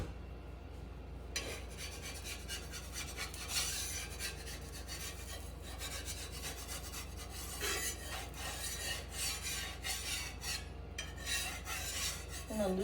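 Spatula scraping and loosening a beetroot flat cake in a pan, quiet repeated rasping strokes in irregular bursts over a faint steady background hum.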